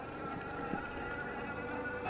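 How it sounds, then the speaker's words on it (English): Ride1Up Turris e-bike motor running on a ride that includes light off-road inclines, heard as a steady, fairly faint whirring drone mixed with wind rush. "so you can hear the motor running right now"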